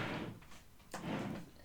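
A drawer slides open in an office setting, two quick scraping pulls close to the microphone, with no voices.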